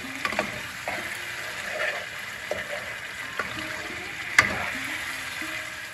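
A spice paste for Bengali dhokar dalna fries in a pan after hot water is poured in, giving a soft, steady sizzle with scattered clinks and stirring sounds, fairly quiet and without talk.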